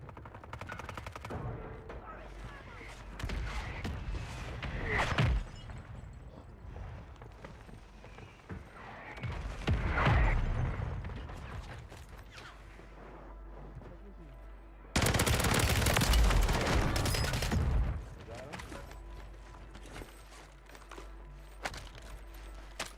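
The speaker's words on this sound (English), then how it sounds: "Friendly mortar strike on the way." Friendly mortar strike in Call of Duty Warzone on Rebirth Island, heard as loud booming blasts and gunfire bursts around 5, 10 and 15 seconds, the last a sustained roar, with game ambience between.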